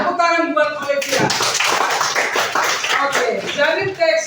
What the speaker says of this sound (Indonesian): Tepuk tangan buat Olivia.